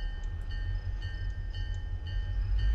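A train runs in a railway simulator game, giving a steady low rumble with faint tonal hum and occasional light clicks, moderately quiet and unbroken, with no talking.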